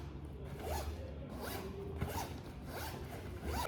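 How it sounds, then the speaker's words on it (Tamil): A backpack zipper slides open in several slow, close pulls, each a crisp rasping zip rising and falling, heard alone in a quiet room. "So let's go to the next zip."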